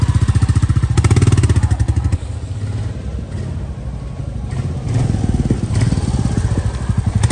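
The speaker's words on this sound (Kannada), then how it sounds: "ಓಜಿ ಬುಲೆಟ್ ಓನರ್ ಇವಾಗ ಟೆಸ್ಟ್ ಡ್ರೈವ್ ಮಾಡ್ತಾ ಇದ್ದಾರೆ." A Royal Enfield Bullet motorcycle on a test ride thumps with a loud, steady single-cylinder beat, close up, its rhythm easing briefly before revving back to a strong pulsing chug.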